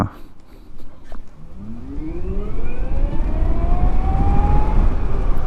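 A new electric motorcycle accelerates, its motor whine rising steadily in pitch and growing louder and nearer as it speeds up, with no talking.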